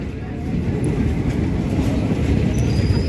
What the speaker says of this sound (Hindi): आ गई ट्रेन